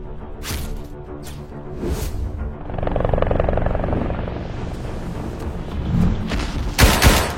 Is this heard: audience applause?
no